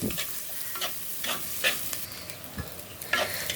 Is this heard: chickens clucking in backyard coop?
no